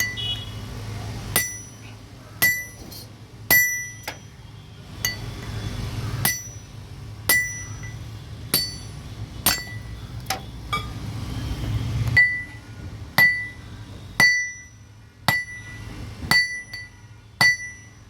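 Metal hammer strikes while forging hammer heads and punching the centre hole, a steady run of sharp ringing clinks, near and fairly loud, each blow spaced about a second apart with no talk.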